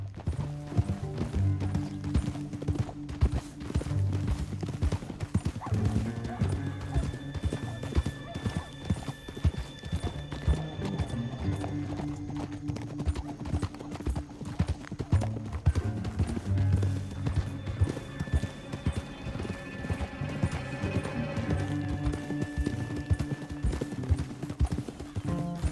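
Horses gallop in a steady clip-clop rhythm with an occasional whinny, over the Red Dead Redemption 2 game soundtrack, continuing throughout.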